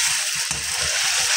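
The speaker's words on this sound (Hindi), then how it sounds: "मैं इसमें लहसुन प्याज का पेस्ट डालूंगी।" Garlic and onion paste frying in a pan gives a steady, loud, hissing sizzle throughout, with a few soft low thumps beneath it.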